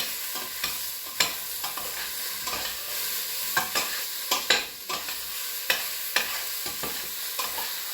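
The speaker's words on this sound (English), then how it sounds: "How does the sizzling sound, by the way?" Meat and vegetables sizzle in a single pot while being made into chili, a steady frying hiss punctuated by repeated scraping stirs throughout, close and moderately loud with no talking.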